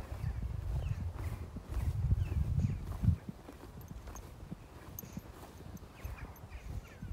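Horses move around a farm stable area, with close, irregular hoof clops and shuffling that are loud at first and then fade to softer, scattered steps.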